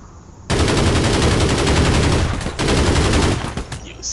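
Loud, sustained automatic gunfire from the online shooter game APB Reloaded. It starts abruptly, rattles on for several seconds with a short break, then stops.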